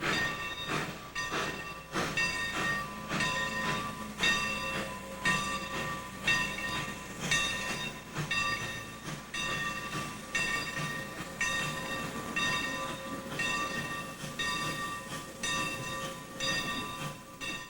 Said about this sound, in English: the express train pulls out of Laughlin Yard